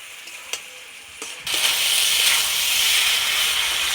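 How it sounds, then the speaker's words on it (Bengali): A ground paste of green chilli, ginger and cumin goes into hot oil: quiet small taps first, then a sudden loud, close, sustained sizzling hiss that carries on steadily to the end, with no voices. "মশলাটা দিয়ে খুব সুন্দর করে ভেজে নিয়েছি"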